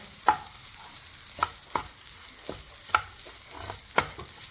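A spice paste heated in a pan to cook off its water, faint steady sizzle punctuated by about six sharp spoon strikes against the pan, close and fairly quiet, no talk.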